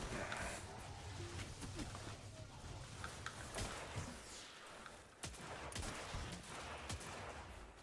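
Hand cannon fire in Destiny 2: sharp, separate gunshots crack out one after another over busy game noise, fairly faint overall, with some shots landing close together.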